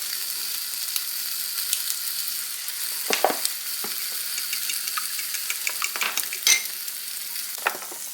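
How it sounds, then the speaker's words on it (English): Sausage browning in a pan while making quick breakfast tacos: a steady close sizzle with crackles, broken by a few clinks and scrapes of utensils on cookware, no talking. "my sausage is over here browning"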